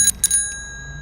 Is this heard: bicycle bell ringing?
yes